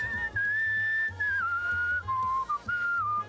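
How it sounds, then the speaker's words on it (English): A melodic whistled tune from the video game Where the Water Tastes Like Wine rings out clearly over a steady low accompaniment, its phrases sliding and stepping between held notes with short gaps. "People have been saying that the whistling song is getting stuck in their head"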